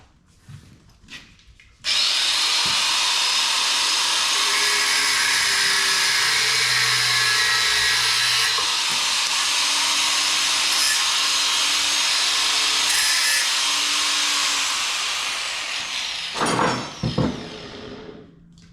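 A new angle grinder works timber on a Dragonfly boat build, starting abruptly and running loud and close in a long continuous whine with grinding and rubbing, then winding down into a few short bursts.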